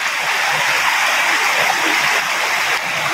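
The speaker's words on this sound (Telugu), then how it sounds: "నీళ్ళు చూడండి ఎంత ఫోర్స్గా వస్తుండో" Forceful waterfall water rushing down the rocks of the Udayagiri hills in Nellore district during the rainy season, a loud, steady roar of falling and splashing water that fills the whole stretch without pause.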